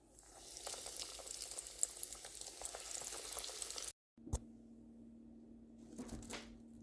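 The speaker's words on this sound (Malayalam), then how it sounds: "ബാക്കിയുള്ള കട്ട്ലേറ്റും നമുക്ക് ഇതുപോലെ വറുത്തെടുക്കാം" Beef cutlets frying in oil sizzle and crackle softly at close range; the bubbling cuts off abruptly partway through, then resumes more quietly over a low hum with scattered pops.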